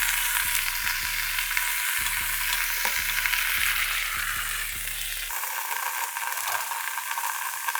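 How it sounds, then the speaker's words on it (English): Avocado oil sizzles in a pressure cooker set to sauté mode, a steady close hiss of frying over a low, rhythmic pulsing in the background. "So I have the pressure cooker set to saute mode. So I have a little bit of avocado oil, a little bit of improv. Hopefully we get a sizzle"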